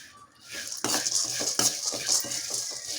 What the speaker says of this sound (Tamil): லோ ஃப்ளேம்லேயே வச்சுக்கிட்டு இது மாதிரி நல்லா வறுத்து எடுத்துக்கோங்க